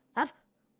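A single short dog bark from the video game Samorost 2, one brief sharp yelp standing alone over a faint low hum.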